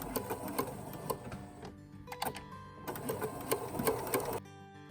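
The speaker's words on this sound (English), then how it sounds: "I'm gonna make it so my needle's down and hold my tails as I get started. And then back stitch." A sewing machine back stitching the side split seam of an oversized tee shirt dress, running in short close bursts with a brief pause midway, then stopping abruptly.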